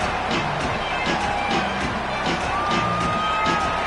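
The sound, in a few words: home crowd cheering at SMU football game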